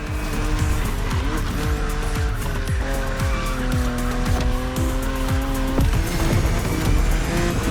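BMW Z4 E89 coupe cabriolet driven in The Crew Motorfest video game, with a loud revving engine running through rapid gear changes and sustained tire squeal, close and continuous with no pauses.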